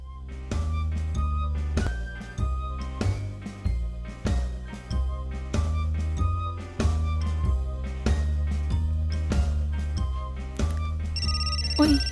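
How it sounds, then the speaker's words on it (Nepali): A telephone rings with a musical ringtone in a Nepali film scene, its melody repeating in steady, loud rhythmic pulses throughout with no talk over it. "फोन आइरहेछ, उठाउ न।"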